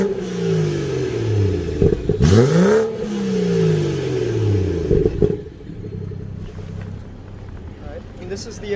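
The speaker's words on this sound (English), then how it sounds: "This is the catless downpipe with the stock exhaust in Sport Plus." BMW 340i with B58 engine, stock exhaust and catless downpipe in Sport Plus mode, revved hard in loud, close rising and falling sweeps with sharp crackles and pops, then settling to a rumbling idle.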